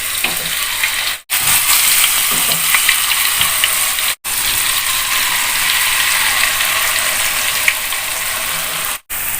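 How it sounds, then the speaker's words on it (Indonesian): Peanut crackers in coconut milk batter sizzle in hot oil, a loud, dense, steady crackling hiss heard close up that cuts out briefly a few times. "Sekarang tinggal kita goreng."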